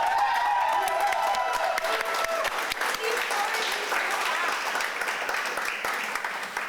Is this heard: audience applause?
yes